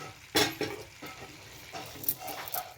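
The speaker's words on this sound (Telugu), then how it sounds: "ఇవన్నీ కలిసేలాగా చక్కగా కలుపుకోవాలి" Raw prawns stirred into simmering curry gravy in a pot, with a few distinct scraping strokes of a spoon and a soft sizzle underneath, close and fairly quiet.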